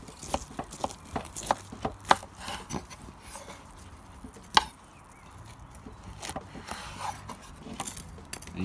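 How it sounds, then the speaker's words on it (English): A knife working through thick St. Louis style pork ribs cooked on a Weber kettle, with a series of close, sharp cuts and thuds against a board and quieter scraping between them. "I'm just gonna cut down here"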